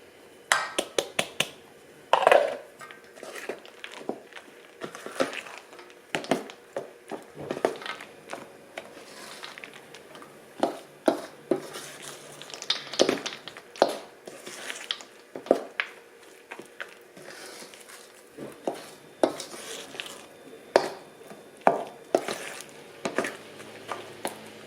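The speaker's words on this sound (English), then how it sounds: "So then we're going to mix our chips in." Chocolate chips being mixed into thick banana peanut butter muffin batter, close irregular squishing and clicking strokes in uneven rhythm as the spoon works through the bowl.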